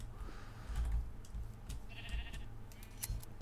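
Sheep bleating in a Minecraft modpack, a few short nasal calls standing out over a steady low rumble and scattered game noises.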